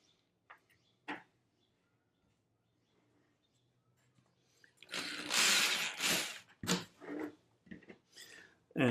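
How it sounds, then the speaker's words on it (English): Star drive coated screws are driven in with a power drill during backdrop construction. A few faint clicks come first, then a loud burst of whirring and grinding that runs in short, uneven pulses toward the end. "So I just put the first screw in,"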